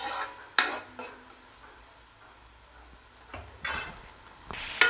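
Tomatoes being sautéed for green chicken gravy, stirred in a pan with a utensil: several distinct scrapes and clinks against the metal over a faint, quiet background.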